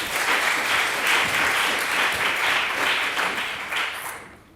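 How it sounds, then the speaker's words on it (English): Sustained audience applause at an academic keynote lecture welcoming the speaker, a dense, even wash of many hands clapping that carries on steadily before fading out at the end. "I would like you to welcome her with a round of applause"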